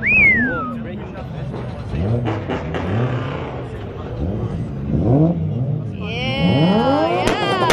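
Tuned cars rev their exhausts in short rising bursts amid a noisy crowd, with excited voices and whistles mixed in and the engines mostly sitting under the chatter.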